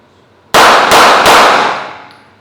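Three rapid handgun shots fired at a center target card, loud and close in an even cadence, each crack running into the next and leaving a ringing tail that fades out.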